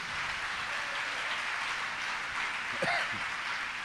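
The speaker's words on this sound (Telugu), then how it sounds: "చప్పట్లు కొట్టండి గట్టిగా ప్రభుకి" A church congregation claps during a Sunday service, a dense and steady wash of applause that lasts the whole stretch, with a short voice rising briefly near the end.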